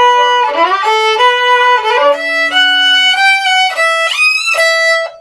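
Solo violin playing the fast ending passage of a song, bright bowed notes with quick slides and a shift up to a high E, close and loud with no talking.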